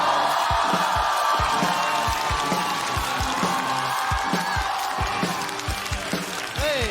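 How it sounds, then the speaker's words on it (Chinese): A stand-up comedy show audience claps steadily as a comedian walks onstage, a dense, continuous wash of applause with a regular low thumping beat underneath that eases slightly toward the end. "掌声有请翟佳宁。"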